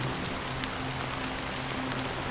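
Steady, even rain from the video game Honkai Star Rail, a dense continuous wash of falling drops with a faint low hum beneath, constant in level throughout.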